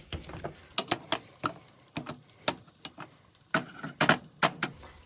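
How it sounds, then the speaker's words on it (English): Boiled potatoes being mashed for mashed potato, a close series of repeated soft thuds and squelchy presses in an uneven rhythm, loud and alone without talk. "So yes, now let's mash."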